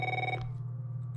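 A telephone rings in the horror video game Until Lights Out, a single electronic trill that cuts off partway through, leaving a low steady hum of room tone behind it.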